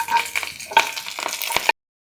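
Tempering (tadka) crackles and sizzles in a hot pan for a rice flour roti dish, a dense, close frying hiss with small pops that cuts off abruptly after under two seconds.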